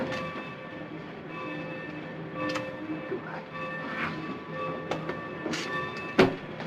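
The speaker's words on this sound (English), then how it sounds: "We'll miss the train." Train and rail carriages at a station in a 1940s setting, a steady rumbling clatter with harmonic tones and occasional clanks, one louder sharp bang near the end, under a busy background.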